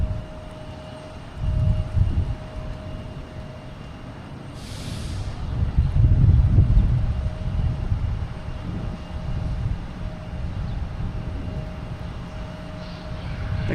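A JetBlue jet airliner taxis out toward runway 22 right at Boston Logan, a steady low engine rumble that swells around the middle and holds at moderate distance, with no talk over it.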